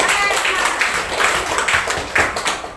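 Classroom applause for a student named Ayub during an Indonesian lesson: a few seconds of moderate, fairly loud clapping from a group, with uneven bursts and faint voices mixed in.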